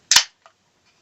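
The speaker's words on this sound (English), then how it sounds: "it's very hoppy just from popping the can right here." A can of Southern Tier 2X Haze beer snaps open with one sharp pop and hiss, followed by a faint small click, close and otherwise quiet.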